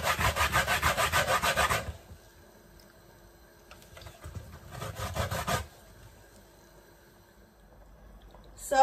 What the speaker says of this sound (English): after 10 minutes I have finished grating my coconut